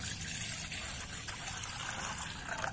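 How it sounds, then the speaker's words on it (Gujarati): Water is poured into a kitchen vessel for washing gunda and mangoes, a faint, steady trickle and splash heard up close with no voices. "આપણે એક વાસણમાં પાણી નાખીશું."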